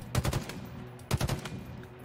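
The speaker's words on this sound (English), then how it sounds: "I wasted half my ammo taking that guy out." Automatic weapon fire in Halo Infinite on Legendary difficulty, two short rapid bursts of three or four booming shots each about a second apart, loud and close.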